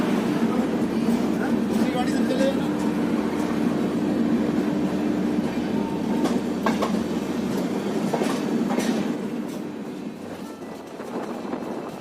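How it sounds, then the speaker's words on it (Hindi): A passenger train on the New Delhi to Kanyakumari run pulls away from a station after a two-minute halt, with a steady loud rolling rumble and wheel clatter that eases slightly near the end. "हमारी ये जो ट्रेन है वो स्टेशन पे 2 मिनट का हॉल्ट है और उसके बाद निकल पड़ी है"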